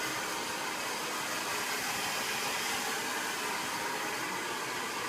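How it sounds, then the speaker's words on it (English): Hair dryer blowing loose hairs out of a person's hair, a loud, steady, close whooshing roar with no break, no voices. "So I'm going to first blow dry the loose hairs out."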